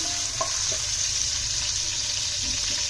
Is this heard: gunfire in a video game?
no